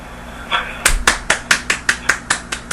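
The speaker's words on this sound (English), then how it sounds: "Round of applause, quick." A small handful of people on a radio show clap in a quick, sparse round, about ten distinct sharp claps in a steady rhythm, close and dry with no talking.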